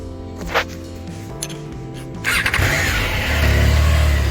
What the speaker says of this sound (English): Let me rev it for you.